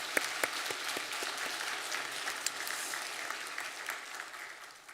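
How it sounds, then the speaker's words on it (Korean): A Sunday church congregation applauds together, steady dense clapping at moderate volume that gradually fades toward the end, with no talk over it. "박수하겠습니다."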